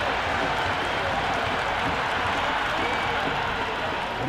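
A stadium crowd in the Cricket 26 video game roars and cheers for a six, a dense, loud wash of crowd noise that holds steady throughout.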